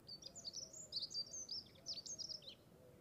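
A fieldfare (Turdus pilaris) feeding in a garden in freezing weather gives repeated high, squeaky chirping calls in short bursts, fairly faint against a low background rumble.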